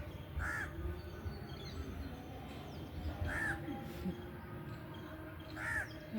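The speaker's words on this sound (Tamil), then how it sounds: "பூந்தோட்டத்தில் ஒரு காக்கா நிற்கிறாங்க." A crow caws three times in a rooftop flower garden, single harsh calls spaced a few seconds apart, somewhat distant over a quiet outdoor background.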